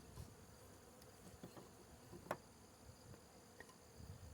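Faint, steady buzzing of bees at a hive after a beehive cutout hums in the background with a few brief, sharper buzzes as insects pass close by.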